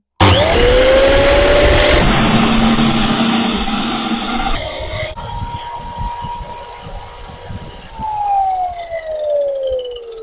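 A Procraft PGS217 1400 W electric miter saw with a 210 mm blade spins up with a loud, rising motor whine at close range, then the pitch slides down as it coasts off and is switched off.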